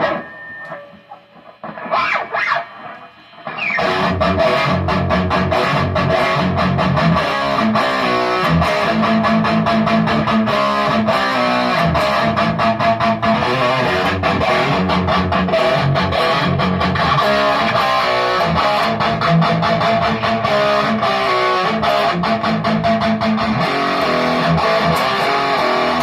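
Electric guitar with heavy distortion plays riffs loud and continuous, with fast chugging palm-muted patterns after a brief quieter open-string intro.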